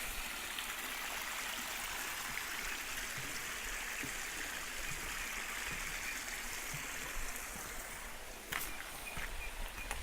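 Steady rushing of a creek flowing over rocks near a small bridge in a rainforest national park, a continuous broadband wash filling the whole stretch with no voices.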